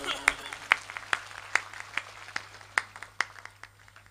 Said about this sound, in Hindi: ये तालियां आपकी कमजोर थी